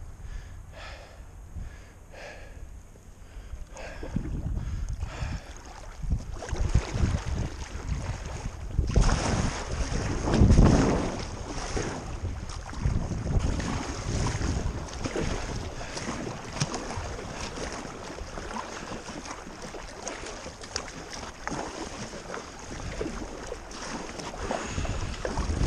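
Sea waves wash and slap around a small packraft out on open water, a continuous surging rush with heavy wind noise across the microphone and a louder swell midway.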